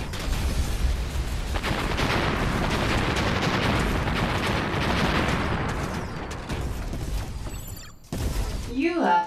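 Gunfire and booming ordnance in the Oculus Quest VR shooter Dead Shot Heroes, a loud continuous barrage of shots and blasts that fades near the end as game sound effects take over.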